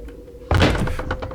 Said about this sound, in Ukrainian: А що це дверки закрились?